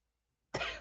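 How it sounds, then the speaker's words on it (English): A single short throat clearing after near silence, close and fairly loud. "Let me clear my throat."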